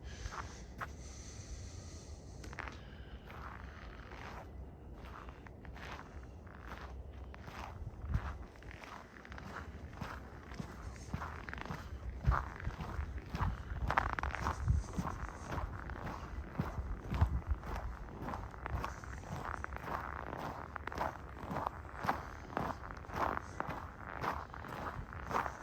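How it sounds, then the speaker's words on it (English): Footsteps crunch through snow on a December walk around a cathedral area in Regina, a steady rhythmic series of close, quiet crunching steps over a faint outdoor background. "there you can hear the snow crunching a bit anyway"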